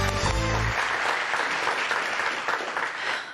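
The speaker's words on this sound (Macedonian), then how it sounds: "Аплаузот, Вели, почнувај." A studio audience on a TV game show claps in steady, dense applause that holds at full strength for several seconds, with a brief low voice at the start.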